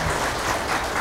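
Audience applause at a seminar co-hosted by the Korea Institute for Military Affairs, a dense, steady burst of clapping that fills the short moment with no one talking over it.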